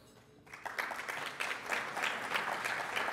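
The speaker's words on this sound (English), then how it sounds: "Or we can applaud." Audience applause at a dinner event, a steady burst of clapping that starts abruptly and fills the room, continuing loud and dense to the end.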